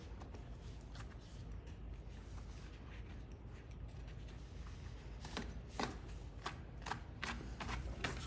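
A deburring tool scrapes the cut end of an Aquatherm plastic pipe in a spool demo, with a series of short, sharp rasping strokes close by that grow more frequent and pronounced toward the end.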